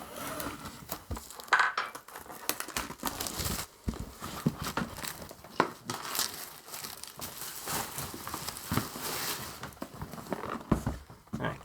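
The Marvel Crisis Protocol core set box being opened, with crinkling plastic, cardboard rustling and light tapping of pieces handled close up, continuous and busy throughout with no talk.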